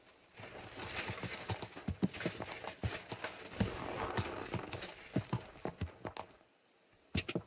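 Horse hooves clop in a steady walking rhythm in the video game Kingdom Come: Deliverance II, fairly quiet and a little distant over a soft outdoor background, with no talking.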